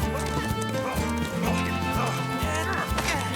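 Horses move in a Zorro cartoon, rhythmic hoof clip-clops sounding over a busy, loud orchestral score, steady throughout.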